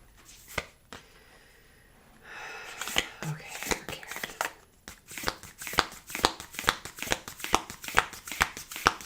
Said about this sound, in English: These cards are hard to shuffle. These round cards.